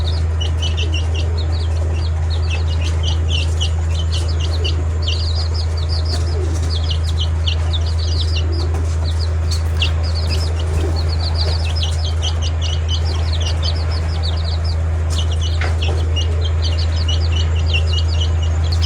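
Sick, sluggish young chickens cheep and cluck in repeated bursts over a constant low electrical hum, with scattered soft rustling throughout.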